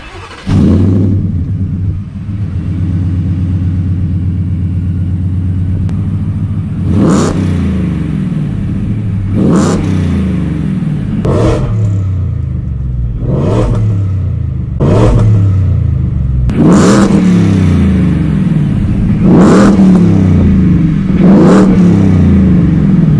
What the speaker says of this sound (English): Check out this badass exhaust setup